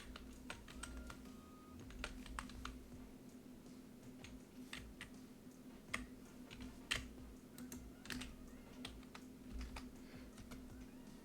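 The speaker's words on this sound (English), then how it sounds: "I'm really slow at typing." Rapid, uneven keystrokes on a computer keyboard clatter throughout over a steady low hum, with louder clicks bunching in short bursts and no voice heard.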